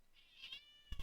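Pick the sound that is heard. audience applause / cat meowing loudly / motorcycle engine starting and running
cat meowing loudly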